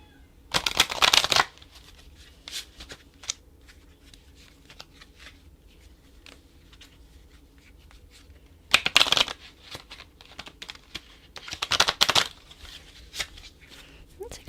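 Tarot answer cards being shuffled in three separate bursts, near and crisp, with quiet gaps between them and no talk.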